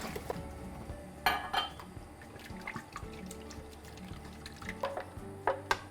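Garlic and spinach puree goes into a hot pan of ghee, giving soft wet plops and faint sizzling, with the clatter of a spoon and utensils scraping the pan, quiet and close.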